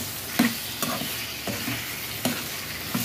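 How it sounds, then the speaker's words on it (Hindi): Boiled lotus stem being stirred into fried masala in a pan, with a close continuous sizzle and about six distinct spoon scrapes at a steady rhythm. "अब हम इसमें डाल देते हैं जो हमने कमल ककड़ी को बॉईल किया था, वो इसे हम डाल देते हैं और इसको अच्छे से मिक्स कर देते हैं"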